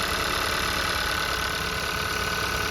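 A car engine idles steadily with a cam position sensor unplugged, a close, even mechanical hum and knock that runs without a break and with no talk.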